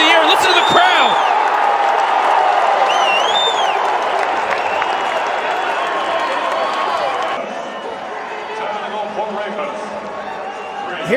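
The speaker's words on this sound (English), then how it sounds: "Listen to the crowd." A big crowd roars and cheers after a goal at a 2019 college lacrosse game between Virginia and Syracuse, loud and sustained with whistles and whoops, easing a little toward the end while a commentator talks over it.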